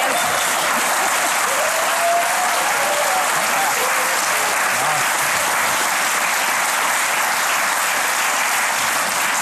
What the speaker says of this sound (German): Ein Sonderapplaus für Frau von Sinn